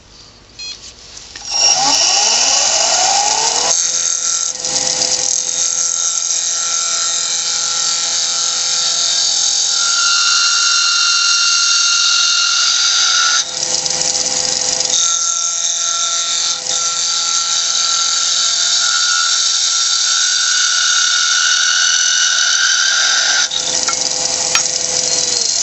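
A wooden ornament body turning on a lathe, the cutting tool giving a loud, steady high-pitched whine and hiss that runs almost without a break, briefly dipping a few times as the cut lifts and resumes.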